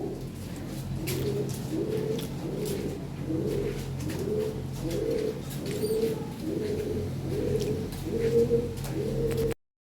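Lahore Siraji fancy pigeons coo in a steady, repeating rhythm, a run of soft, rolling calls at moderate distance over faint background noise and occasional chirps, with no talk.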